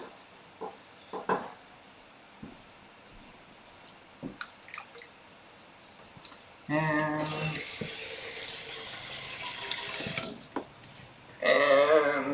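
Tap water pours into a sink to rinse a jar while mushroom sauce is bottled. The steady rushing stream runs for several seconds, preceded by scattered clinks and drips and followed by a shorter burst of running water.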